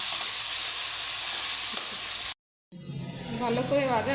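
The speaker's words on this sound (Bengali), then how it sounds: "ভালো করে একটু ভেজে নেব।" Cumin seeds, bay leaf and dried chillies sizzle in hot oil with a steady bright hiss, which cuts out briefly and then returns louder and crackling as the spices hit the pan.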